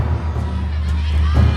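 A crowd of spectators cheers and shouts for a contestant at a Cambodian third-gender beauty pageant, giving a loud, continuous roar that lasts briefly.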